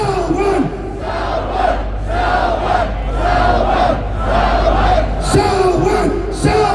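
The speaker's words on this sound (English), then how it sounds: "I want everybody in the crowd to start chanting Salman, Salman, Salman" A large crowd chanting the name Salman in unison, loud repeated rhythmic shouts filling the space, close and sustained.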